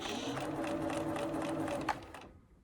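A sewing machine stitches fabric for a mask, running in a rapid, even mechanical whir for about two seconds with a brief reverse back stitch, then stops abruptly into quiet.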